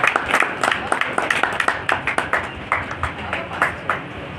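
Audience applause at a Jhulelal youth and women's group silver jubilee celebration, a steady patter of many hands clapping with distinct sharp claps standing out, fading slightly toward the end.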